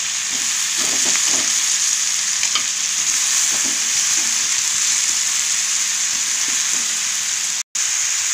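Brinjal pieces fry in a pan for a mutton and brinjal curry, giving a loud, close, unbroken sizzle with scattered soft clinks and scrapes of stirring, briefly cutting out near the end; no speech.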